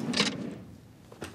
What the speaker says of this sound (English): Let me just look through my video drawer.